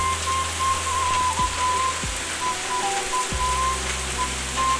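Steady rain pours down on a farm during the rainy season, a dense unbroken hiss close by and without pause, with no one speaking.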